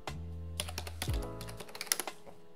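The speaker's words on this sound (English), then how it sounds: "So you can do that by typing passwd root" Rapid keystrokes on a computer keyboard as a password is entered on a Kali Linux machine, a quick irregular run of crisp clicks heard close and alone after a low hum fades.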